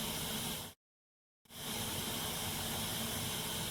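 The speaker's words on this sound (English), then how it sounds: "Turning on the radio." A car radio switched on in a song, producing loud broadband static hiss that cuts out abruptly for under a second and then resumes at full strength.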